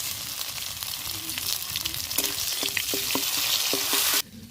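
Coriander, cumin and green chili paste frying in hot oil for chicken biryani, a steady close sizzle with a few spoon scrapes against the pan near the end before it cuts off.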